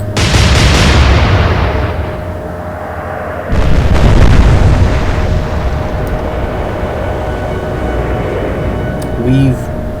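Naval gunfire and explosions in the warship game Atlantic Fleet, a heavy booming blast at the start decaying into rumble, then a second big detonation followed by a long fading roar.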